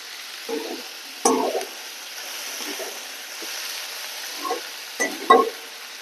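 Chopped onions frying in a pan for a ridge gourd curry, a soft low sizzle with a few louder stirring crackles and scrapes spaced out through the quiet.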